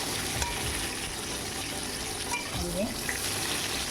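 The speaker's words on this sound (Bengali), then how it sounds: "আর একটু ভাজবো পটলটা" Pointed gourd (potol) fries in a pan until reddish-brown, giving a steady, fairly loud sizzle and crackle that holds throughout, with some faint stirring noise.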